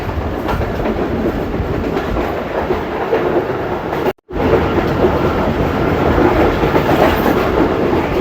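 A Tezgam passenger train rolls past a railway station with continuous loud rumble and rhythmic clickety-clack of wheels on rail joints, broken by one brief drop-out midway.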